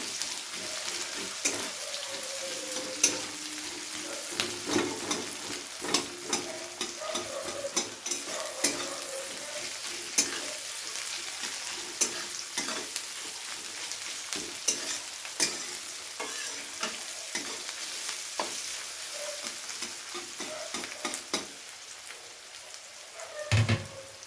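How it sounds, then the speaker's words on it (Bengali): Chopped onion frying in hot oil, a steady soft sizzle and crackle broken by frequent sharp scrapes and taps of a spatula stirring in the pan, close up and continuous, with no talking. "পেঁয়াজটাকে এবারে একটু হালকা নরম করে ভেজে নেব প্রথমে"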